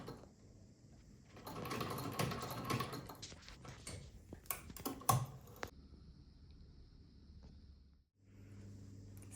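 An old Vickers domestic sewing machine with its cover missing runs and whirs, giving bursts of rapid mechanical ticking and clatter that rise and fall, then settle into a steady softer hum.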